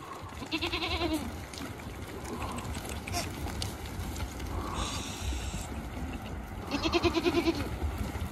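Goats bleat in short wavering calls, one near the start, another in the middle and a louder one near the end, over a busy outdoor background with voices talking.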